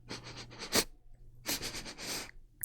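Several quick sniffs in close succession, close and fairly quiet, in two short bursts with a brief pause between, in a hushed late-night setting.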